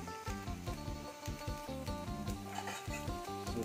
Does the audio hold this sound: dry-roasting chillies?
yes